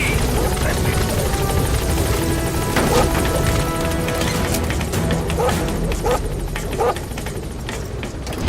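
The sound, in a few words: Pequod helicopter arriving at landing zone in Metal Gear Solid 5 video game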